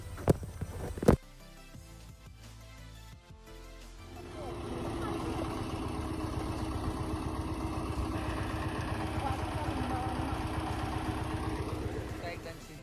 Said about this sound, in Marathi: तिथे आपण ट्रॅक्टर बोलवलेला आहे आणि तो ट्रॅक्टरने आता पूर्ण चिखल करून घेऊ आपण